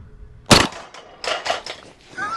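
A CZ Scorpion 3+ fires at an indoor-style range from 17 yards, one sharp loud report followed by a few quicker, softer cracks in close succession.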